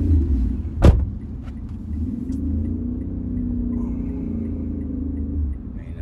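A vehicle engine idles and rumbles steadily as vehicles start moving, with a sharp click or clunk near the start and a low continuous drone afterward.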